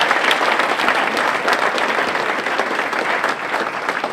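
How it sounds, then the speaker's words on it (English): An audience at a Les Brown motivational talk claps for a speaker in sustained, dense, loud applause that holds at an even level throughout, with no voices standing out. "Give her another round of applause, all right?"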